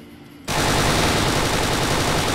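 Sustained automatic gunfire from a video game bursts in abruptly after a quiet moment and keeps hammering loudly and continuously, like rapid machine-gun fire with no pauses, and no voices over it.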